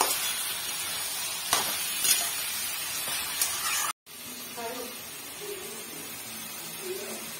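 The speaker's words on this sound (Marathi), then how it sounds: "टोमॅटो पण थोडा वेळ भाजून घेऊया आपण." Tomatoes frying in oil for a spicy chicken sauce, a steady sizzling hiss with a few brief clinks, then a sudden cut to quieter sizzling under a speaking voice.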